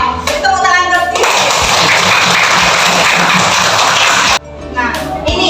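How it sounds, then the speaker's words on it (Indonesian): A class of fourth-grade schoolchildren claps in an orderly chant, a burst of loud, dense group clapping lasting a few seconds, framed by children's voices and a teacher speaking before and after. "Tepuk tangan tertib."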